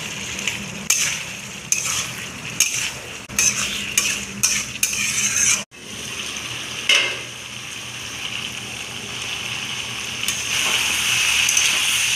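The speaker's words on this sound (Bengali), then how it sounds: "এবার আমি সজি কচুগুলা অ্যাড করবো" Taro pieces tip into a pot of cooked spice masala and get stirred, a metal spoon clanking and scraping against the pot in uneven bursts, then a softer steady sizzle and bubbling takes over.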